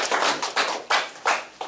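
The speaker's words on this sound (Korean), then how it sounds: "다시 한번 박수" An audience at a seminar lecture claps for a speaker, a short, moderately loud round of applause that comes in uneven swells and then fades.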